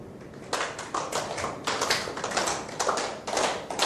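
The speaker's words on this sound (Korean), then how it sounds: "박수를 쳐보시는데 맞춰서 한번 쳐보세요." A seminar audience claps together in time, sharp hand claps landing in a steady rhythm of roughly regular beats, fairly close and moderately loud, with no talking.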